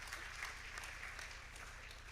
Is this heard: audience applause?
yes